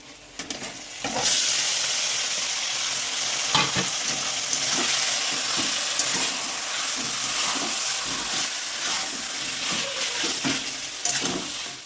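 Marinated chicken meat tipped into a hot pan with onion for a palak chicken dish, sizzling loudly and steadily with occasional scrapes and stirring knocks throughout.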